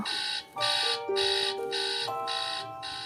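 An alarm clock rings in rapid repeated bursts of bright beeping, steady and insistent, with a faint tone shifting underneath.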